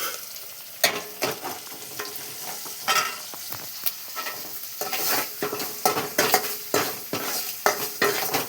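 Curry leaves, onions, garlic paste, salt and chili frying in a pan for tomato chutney, a loud, continuous sizzle with rhythmic scraping bursts as a spoon stirs through it.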